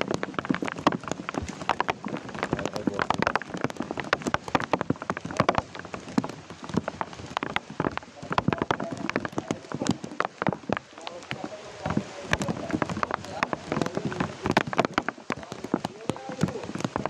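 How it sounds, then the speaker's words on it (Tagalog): Heavy rain pours down steadily throughout, with dense crackling drops on a surface and occasional louder splashes, close and loud with no pause. "Malakas ang ulan guys."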